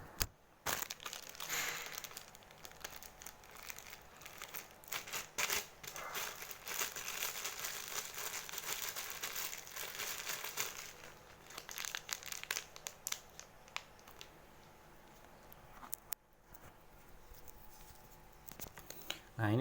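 A plastic bag holding an opened pack of Vitacik vitamin A tablets crinkles and rustles as it is handled up close, with dense bursts of crackling that thin out near the end.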